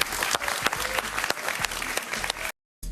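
Studio audience applause during a televised interview: dense, steady clapping that fills the room for about two and a half seconds, then cuts briefly to silence before resuming.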